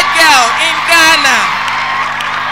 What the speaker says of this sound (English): Let's continue to give her a round of applause as I welcome Miss Christabel Gansa